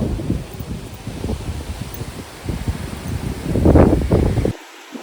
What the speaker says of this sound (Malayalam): കാറ്റ് നമ്മള് പറന്നു പോകുമെന്നൊക്കെ തോന്നിപ്പോവും. അതുപോലെയുള്ള കാറ്റാണ്.